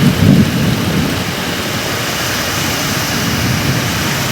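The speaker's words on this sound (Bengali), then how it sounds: "আমার কথাটা কি তোমরা শুনতে পাচ্ছ মেঘ ডাকার আওয়াজে" Steady heavy rain hisses throughout, with a deep rumble of thunder swelling at the start and fading into the downpour.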